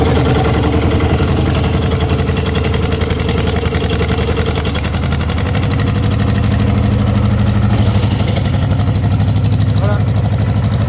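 An engine cranked by its starter that catches and settles into a steady, loud, rumbling idle, with a continuous throbbing drone and a slight deepening partway through.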